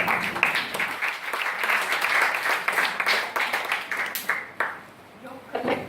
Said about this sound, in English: You could clap for yourself.